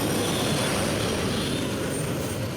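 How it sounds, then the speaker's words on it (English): Turbine-powered tractor pulling machine with Isotov turbines of 1900 horsepower each, roaring loudly and continuously at a 2012 Eurocup tractor pulling event in Hajdúböszörmény, Hungary, a dense, sustained engine roar with no talking. "Each of the Isotov turbines give 1900 horsepower."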